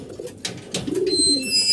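Pigeons in a loft give a short, close, throaty coo amid soft wing flutters and shuffling, fairly loud and with no talk.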